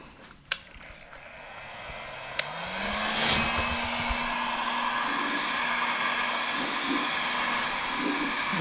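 A heat gun blows steadily on the badge of a Ford F250 truck, a continuous whooshing hiss that starts after a few short clicks and holds at an even, close level for several seconds.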